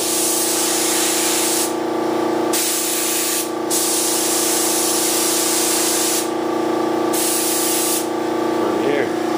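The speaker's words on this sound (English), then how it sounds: "How much I'm spraying out." A $20 Harbor Freight spray gun sprays PartAll mold release in several loud, steady hissing bursts separated by short pauses, with faint handling noise near the end.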